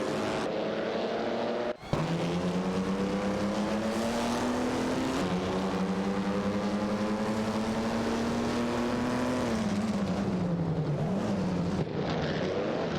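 Race cars in an AI-driven racing game: a steady, loud engine drone with rising and falling pitch as cars accelerate and shift, with a brief sharp thump early on and no talking.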